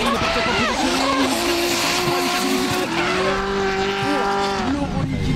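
BMW and Nissan drift cars screaming through a drift battle at a French round, engines roaring loud and continuous with sustained tire squeal, a commentator talking over the action throughout.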